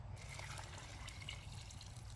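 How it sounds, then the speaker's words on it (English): Water trickles and pours steadily into a pot for lentil soup at low volume over a faint low hum, without a break. "Pour the water. So we're going to add the water"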